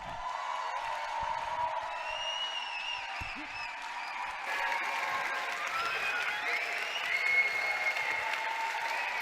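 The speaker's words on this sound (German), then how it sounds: "Genieß es, dein Applaus." Steady applause with scattered cheers and whoops from an audience after a performance at a song contest final, a sustained, even patter of many hands that swells slightly toward the end, heard from some distance.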